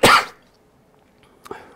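A single loud, close cough blamed on seasonal allergies bursts out at the start, followed by near silence and a brief softer throat noise near the end.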